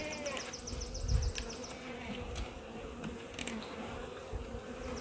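Honey bees buzzing around hive frames during a spring colony setup, a soft, continuous hum with individual bees whining past up close, plus a few light knocks and rustles from handling the frames.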